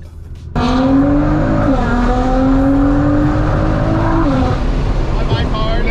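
An 800 hp Nissan GT-R sports car bursts into loud, close acceleration with a sharp onset, its engine note rising and holding through gear changes, with a faint tire squeal.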